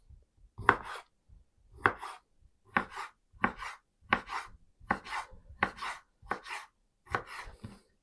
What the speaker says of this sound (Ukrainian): Огірок також нарізаємо соломкою